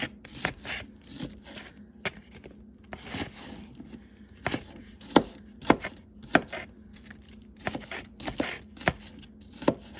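Knife chopping onions, carrots and celery on a wooden cutting board for homemade vegetable soup, with irregular bursts of sharp close chops and scraping, steady and alone without talk.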